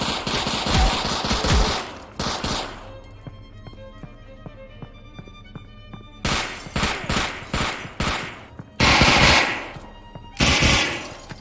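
SMG gunfire rings out in a video game, with loud rapid automatic bursts that break off for a quieter stretch of game sound before several more sharp volleys follow.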